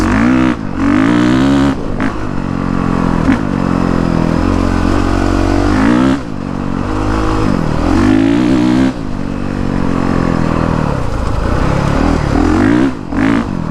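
A brand new motorcycle ridden over leaf-covered ground, its engine loud and close, revving up and down repeatedly with rattling clatter throughout.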